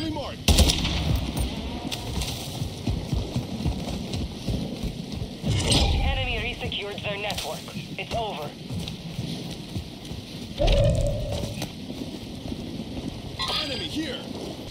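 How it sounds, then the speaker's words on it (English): In-game gunfire aimed at the player, with scattered shots and short automatic bursts that come and go over a steady background, while people talk across most of it. "Somebody's shooting me."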